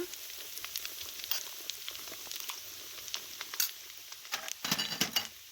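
Chilli powder and spices sizzling in hot oil for shallot thokku, a close, crackling fry with occasional clinks and scrapes of a spoon stirring the pan.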